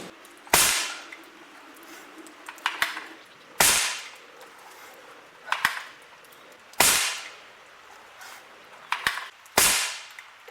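Umarex NXG APX pellet air rifle firing at an outdoor target, four loud, sharp shots spaced a few seconds apart, each followed by fainter clicks of reloading.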